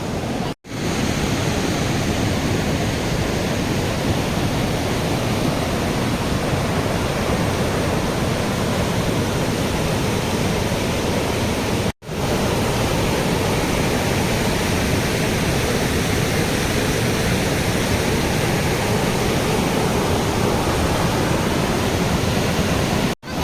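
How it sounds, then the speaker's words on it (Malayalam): Kozhippara waterfall flowing strongly after heavy rain, a loud, unbroken roar of rushing water close by with no voices over it. "ഇപ്പോൾ കോഴിപ്പാറ വെള്ളച്ചാട്ടത്തിൽ നല്ല അടിപൊളി ഒഴു ഒഴുക്കാണ് നല്ല രീതിയിലുള്ള വെള്ളമുണ്ട്"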